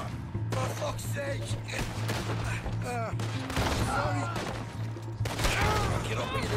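Double-barrel shotgun blasts in Red Dead Redemption 2 during a train heist, heavy booming shots amid chaotic game action and music, with someone talking excitedly over them.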